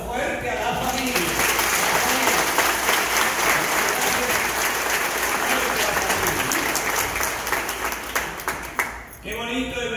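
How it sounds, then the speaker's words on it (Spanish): Church congregation at Mass gives families a loud, sustained round of applause, dense clapping filling the space from start to near end, with a voice speaking briefly before and after. "Vamos a darle un aplauso fuerte a la familia."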